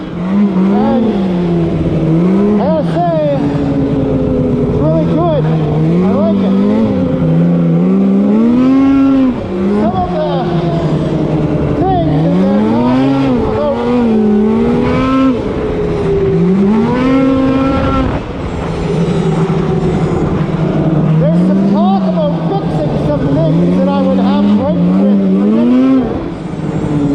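Polaris Switchback Assault 850 snowmobile rides along a trail, its engine loud and near, rising and falling in repeated surges as the throttle opens and eases, with a constant droning roar throughout.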